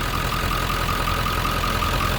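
A 1997 Ford F-350 regular cab 4x4 pickup idles with a steady, loud, unbroken engine drone and no talking.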